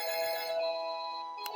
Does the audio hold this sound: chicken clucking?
no